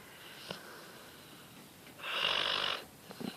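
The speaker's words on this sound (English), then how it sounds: "Come on, stop snoring." A dog snores softly indoors, with a faint snort and then one longer raspy snore of about a second, quiet and with no talk.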